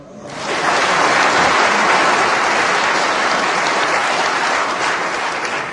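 Sustained applause rolls in from the other side of the wall at the Crucible during a snooker match, a broad, steady clatter of clapping that swells quickly and holds for several seconds.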